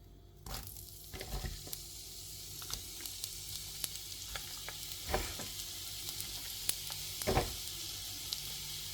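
Dried red chillies and onion fry in hot oil for a Kerala-style coconut chammanthi, giving a soft continuous sizzle broken by several sharp scraping stirs and clanks of a spoon against the pan, close and clear with no talking.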